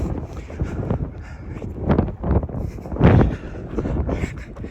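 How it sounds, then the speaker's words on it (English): Wind gusts buffet the microphone outdoors on a walk past a house under construction, with a loud, uneven rumbling that swells and fades in surges throughout. "if you hear just wind"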